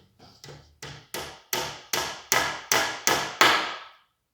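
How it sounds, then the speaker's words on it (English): Wooden dowels being hammered into a handmade naginata, nine or ten sharp, evenly spaced strikes that grow steadily louder, close up with no talking. "And then I'm going to hammer in the dowels."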